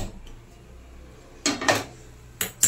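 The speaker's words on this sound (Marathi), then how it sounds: "नॉनस्टिक पॅन ठेवते त्याच्यावरती" A nonstick pan is set down on a gas stove with a few sharp metallic clanks and knocks after a quiet stretch.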